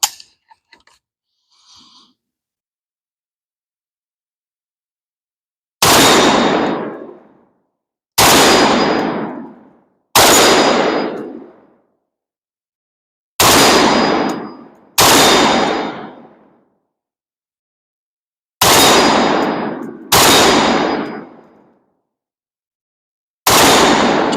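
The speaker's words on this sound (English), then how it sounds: "let's take a few shots at that steel with this" AK pistol fired at a steel target outdoors: eight loud, separate gunshots with ringing metallic clangs, spaced irregularly a second or few apart, each decaying quickly into silence, with no talking.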